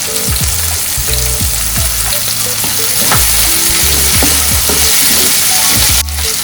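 Tomato and spices sizzle and fry loudly and steadily in a pan for a mutton curry, with stirring scrapes and clatter over the constant crackle.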